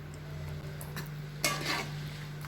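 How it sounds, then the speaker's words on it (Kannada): A spoon stirs vegetable kurma with peas in a pan, giving a few soft scrapes and clinks over a quiet low hum, with one brief louder scrape. "ಚೆನ್ನಾಗಿ ಮಿಕ್ಸ್ ಮಾಡಿ"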